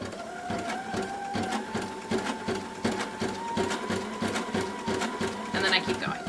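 A Sashiko sewing machine stitches a quilt in a steady, rapid mechanical chatter with a whirring motor tone, running continuously up close and briefly pausing near the end.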